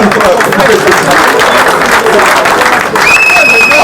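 Applause from a crowd at a political rally, loud and sustained across the whole stretch, dense close clapping with crowd noise and a voice mixed in.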